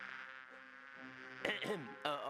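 Steady insect-like buzzing of bees in a video game, Discworld II, hums throughout, with a couple of brief louder bursts of chatter or squeaks breaking in near the end.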